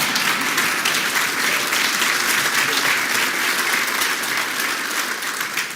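A crowd at a house dedication ceremony bursts into steady applause, a dense, loud wash of clapping that holds evenly throughout before tapering slightly at the end.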